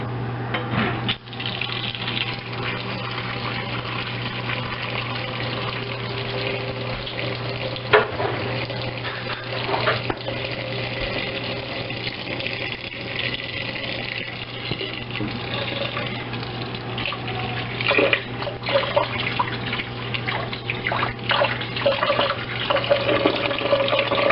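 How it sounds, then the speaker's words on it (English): A steady stream of tap water runs into a sink as homemade butter is washed, splashing and gurgling continuously with small knocks and handling noises throughout. "now I have my butter in here, and so we're going to wash it"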